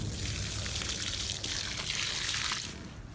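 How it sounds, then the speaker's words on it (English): Water pours steadily onto the ground around an avocado tree, a continuous splashing trickle that fades out near the end. "So let's put some water in here."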